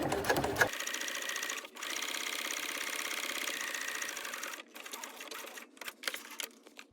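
A sewing machine back stitches along a line of top stitching on a small bucket bag, a steady rapid mechanical chatter with short pauses and a few stop-start bursts near the end, fairly faint.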